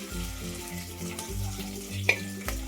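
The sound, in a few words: sautéing spices in oil for dal khichdi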